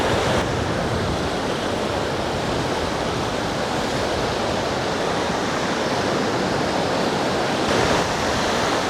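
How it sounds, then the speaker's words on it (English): Rough sea waves wash onto the beach at Alykes, Zakynthos, as a constant loud broadband roar of surf and wind, close and steady throughout, with no talking. "the sea's a little bit on the rough side this morning."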